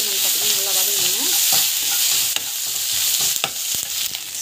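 Vegetables sautéing in a pan with turmeric powder produce a steady close sizzle with sharp spatula scrapes and taps near the end, and no one speaking.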